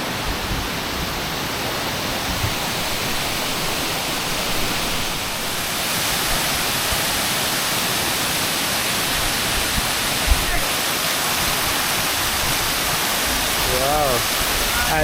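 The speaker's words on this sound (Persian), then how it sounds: "عجب آبشاریه، نگاه کن." A waterfall in northern Bali, its water falling behind leaves and greenery, roars as a steady broadband wash that stays loud and even throughout. A person talks over it now and then.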